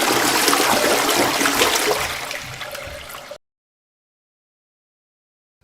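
A toilet flushing, a loud rushing gush of water lasting about three seconds that tapers into a trickle before ending abruptly in silence.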